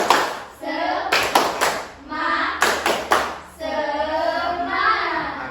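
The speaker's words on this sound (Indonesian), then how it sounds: "kita akan melakukan tepuk semangat dulu" A group in a classroom claps the rhythmic tepuk semangat spirit clap, with sharp bursts of hand claps in a set pattern and voices chanting loudly between the clapping phrases.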